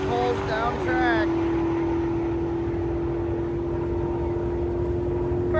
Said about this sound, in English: We hear him pouring on the coals down track.